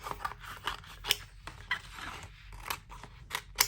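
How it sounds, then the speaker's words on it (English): Scissors snip through colour-changing neon craft vinyl in a series of close, crisp cuts with an uneven rhythm and brief pauses, with no voices. "I'm going to cut off just the part that I'm going to be weeding out"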